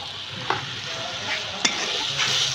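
Fish sautéing in a hot pan in a Bangladeshi village kitchen, a steady sizzle of oil with a few sharp scrapes of a spoon stirring against the metal, close and moderately loud with no talking.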